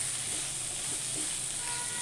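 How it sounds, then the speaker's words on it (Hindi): Chicken fajita pasta ingredients are sautéed in a pan, producing a constant, even, fairly faint sizzling hiss with no distinct stirring strokes. "अब मैं इसे 1 से 2 मिनट के लिए सौते कर लूँगी।"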